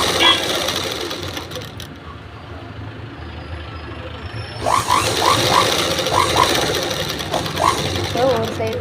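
A sewing machine stitches fabric in a steady mechanical whir, fairly close and continuous, with a voice talking over it in the second half.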